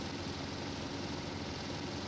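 A car engine in The Long Drive driving game hums steadily at a constant, moderate level, with no pauses, changes in pitch or voices.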